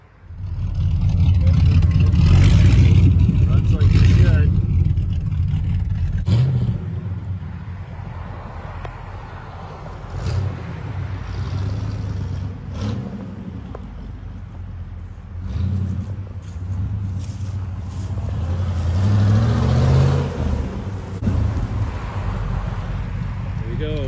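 1980 Chevrolet Camaro Z28 with a four-speed Muncie gearbox fires up and revs, a loud low engine rumble rising and falling in blips, with people talking and wind buffeting outdoors.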